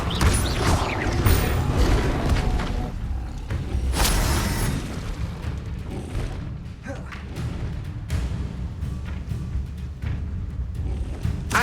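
Bombarda spell explosions in Hogwarts Legacy: heavy booming blasts that roll into rumbling crashes and debris, with a few deep thuds spread across a dense, continuous din.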